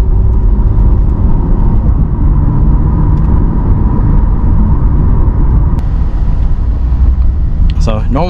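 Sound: 2020 Corvette C8 Z51 engine while driving in normal mode

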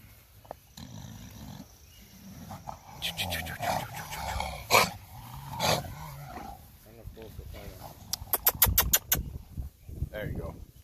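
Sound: excited American Bully dogs straining on leashes

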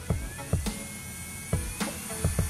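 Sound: electric nail drill running, MelodySusie 2-in-1 nail lamp

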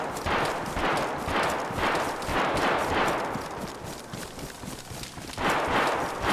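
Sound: gunfire from bots shooting at the player in the video game DayZ

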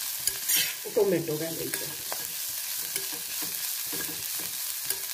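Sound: fenugreek leaves and coriander frying in oil

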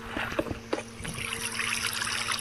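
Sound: flowing water in the video game Minecraft

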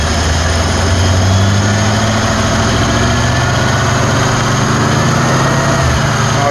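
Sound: engine running at partial throttle with Chinese Ford 2100 carburetor

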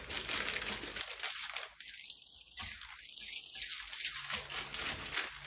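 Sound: unboxing Nike Kwondo 1 sneakers, crinkling packaging

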